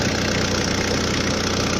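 Steady low rumble of an idling car engine, loud and even throughout, with no talking.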